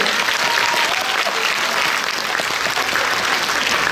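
Dense, loud audience applause after a young singer's performance at a concert, a continuous wash of clapping that holds steady for the whole stretch with no pauses.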